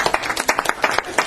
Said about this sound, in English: let's give a big round of applause for our sponsors this year